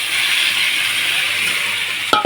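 Steady hissing sizzle of a frying pan of potatoes and lentils, loud and continuous as water is added, ending with a brief sharp clatter.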